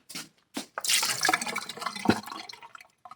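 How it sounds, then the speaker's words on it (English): Water is poured from a cup into a dog's water bowl in a few separate bursts, with a short splash, then a longer, louder pour that gurgles and fades, close by, with no voices. "By the way, I also use a cup to fill up her water."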